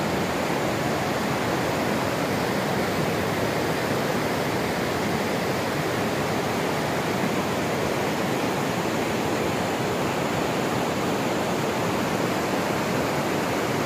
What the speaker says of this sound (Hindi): पानी की पत्थरों से टकराने की और जो दरिया की लहरें पानी के साथ अठखेलियाँ कर रही हैं